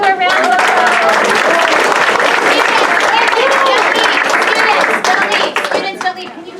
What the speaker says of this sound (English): Parents, can we give our kids one more round of applause?